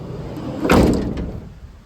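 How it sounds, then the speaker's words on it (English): A carpentry van's sliding side door rolls open in one loud, close rumbling slide that fades out, with no talking over it. "Okay, so this is my view of my side door here."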